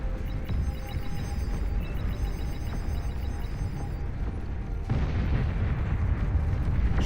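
A nuke detonates in the real-time strategy game Beyond All Reason, producing a deep, rumbling, sustained roar with a fresh surge partway through, loud and continuous under the battle noise.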